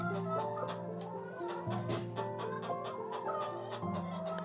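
Hens cluck and chatter in a farm video game, a steady run of short, close clucks layered over a looping musical background, with no voices over them.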